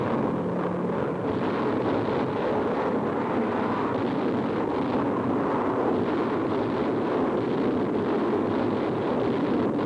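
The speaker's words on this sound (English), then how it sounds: "Now, low-flying B-25s unload tons of delayed action bombs." Delayed action bombs from low-flying B-25s explode in a 1943 wartime newsreel, heard as a continuous dense roar of blasts and rumbling. The recording is wind-like and steady at a constant loud level, with no distinct individual bangs.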